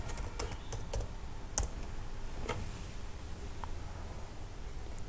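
Typing a command on a computer keyboard in a Linux terminal, a quiet series of irregular key clicks and taps over a low steady background hum.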